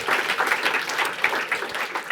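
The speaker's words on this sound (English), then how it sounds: "Round of applause, please." Audience applause at a climate hackathon final presentations and awards event, a steady dense wash of clapping from a crowd, sustained and fairly loud throughout.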